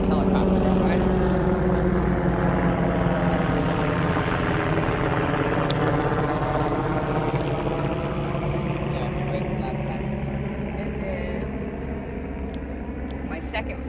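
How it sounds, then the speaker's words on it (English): A helicopter passes overhead above a flower garden during a morning harvest, a loud, steady rotor drone that slowly fades as it moves away. "The helicopter there, right?"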